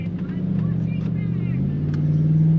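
A 4WD vehicle grinds through soft beach sand in full drive, its engine droning steadily up close, pitch rising slightly as it pushes on.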